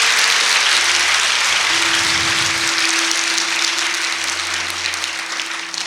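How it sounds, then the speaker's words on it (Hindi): A full audience applauds at a 75th Republic Day program, loud continuous clapping that fills the space for several seconds while a steady electrical hum runs underneath, fading slightly toward the end. "एक बार सब एक दूसरे के लिए तालियों की गड़गड़ाहट करें"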